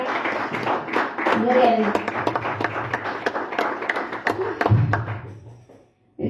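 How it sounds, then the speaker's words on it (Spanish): A church congregation claps during a sermon, sharp hand claps tapping along in a fairly regular beat beneath a spoken voice, then thinning out and stopping near the end. "Damos un fuerte aplauso a la palabra."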